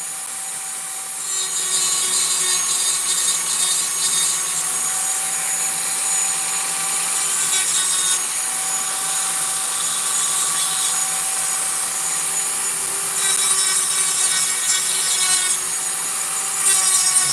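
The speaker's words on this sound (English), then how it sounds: "the sander removes very, very slowly" A power sander runs steadily against a wood carving, smoothing the face of the figure with a continuous loud whirring drone and rubbing grit, with slight surges in intensity as pressure shifts.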